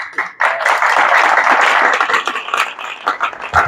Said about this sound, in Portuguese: Você pode dar uma salva de palmas para Deus?